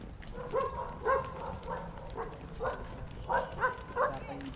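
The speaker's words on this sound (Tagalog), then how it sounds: "Ay, may aso." A dog barks repeatedly in short, rhythmic yaps at a moderate distance in Baguio, with low ambient noise and faint murmuring underneath.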